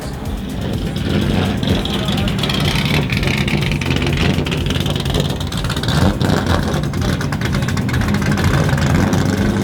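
Racing saloon car engines idling together on the grid before a race start at the Goodwood 75th Members' Meeting, SD1 Gerry Marshall Trophy: a dense, continuous mid-pitched rumble with occasional blips, under a commentator's voice.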